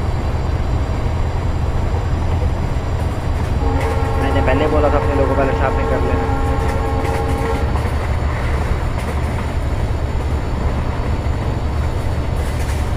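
Inside Indian Train Simulator, a Rajdhani Express runs parallel and overtakes with a loud steady rumble and rail clatter, its horn sounding a sustained multi-tone blast midway, while someone talks over it.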